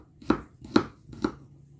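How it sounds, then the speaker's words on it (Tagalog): A knife slicing garlic on a cutting board, three distinct evenly spaced chops, close and crisp, each a short thud with a light click, alone with no talking. "Going to slice my garlic like this"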